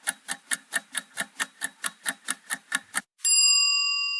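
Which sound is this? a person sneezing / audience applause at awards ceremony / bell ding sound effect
bell ding sound effect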